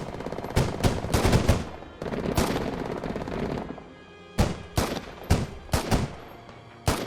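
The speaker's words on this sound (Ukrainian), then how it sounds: "Ви чуєте, що поміняли звук калаша." Bursts of Kalashnikov rifle fire in a video game, a sustained rattling volley followed by several sharp separate shots spaced apart, loud and close.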